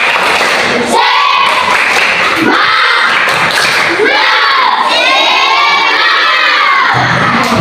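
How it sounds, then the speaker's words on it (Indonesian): A class of schoolchildren in an Indonesian lesson performs the 'tepuk semangat' clapping chant, loud and close, with shouted chanting over rhythmic claps running throughout. "Tepuk semangat."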